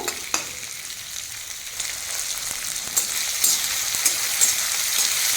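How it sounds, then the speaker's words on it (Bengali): Onion and capsicum sauté lightly in a pan for chilli chicken, a steady moderate hiss and crackle with scattered soft clicks of stirring, no one talking. "হালকা ভেজে নেবো, বলতে পারেন হালকা সটে করে নেব"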